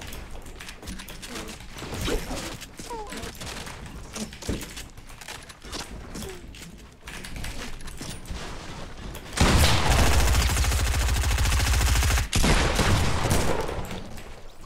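Gunfire in the video game Fortnite: rapid crackling shots and bursts throughout, swelling into a dense, loud sustained volley of automatic fire toward the end, with no talk.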